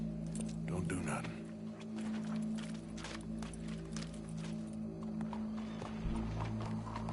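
Horse hooves clip-clop steadily at moderate distance beneath a strong steady hum, with voices talking over the top.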